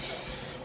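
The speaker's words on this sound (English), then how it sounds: "I sprayed it with this non-stick spray," Non-stick cooking spray hisses from an aerosol can onto a metal cookie scoop, a steady close hiss lasting under a second before trailing off.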